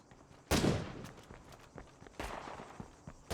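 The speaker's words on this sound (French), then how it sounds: "Cette belle explosion" An in-game explosion in the video game State of Decay 2 erupts as a loud broadband burst, followed by scattered smaller impacts and a second strong blast near the end.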